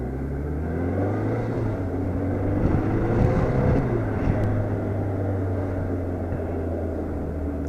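A BMW K1200RS motorcycle is ridden along a road, its engine droning steadily with rising and falling pitch under heavy wind rush, close and continuous throughout.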